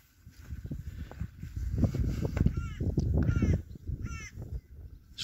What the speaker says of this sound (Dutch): Schreeuwende kraaien op de achtergrond.